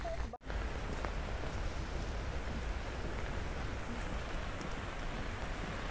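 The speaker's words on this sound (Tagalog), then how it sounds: "Still, umuulan pa din." Steady rain falls without pause as a continuous broadband hiss by a bridge at Gardens by the Bay in Singapore, with a brief dip near the start and no talk.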